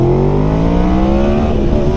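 A motorbike engine revs hard during a wheelie, its pitch climbing in a loud, steady roar close by, with no talk.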